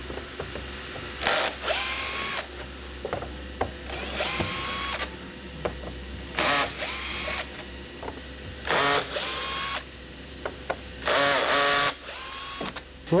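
A power drill backs screws out of the padded top of a SleepSafer tall bed closed extension in repeated short whirring bursts, each run separated by brief pauses and small clicks, loud and close with no talking.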